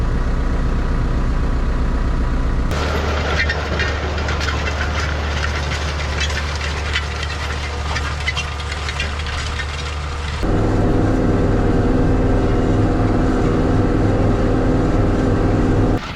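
A tractor pulling a disc across a plowed, rocky field: a loud, steady engine drone with rattling, clanking implement noise throughout, shifting to a deeper, heavier rumble partway through.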